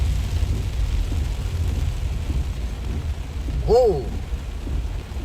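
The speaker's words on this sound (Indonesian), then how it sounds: "Hujan makin deras." Heavy rain falls around a car on a rough road near Tagari and Balusu, a steady low, loud wash of noise filling the cabin, with a brief voice exclamation near the end.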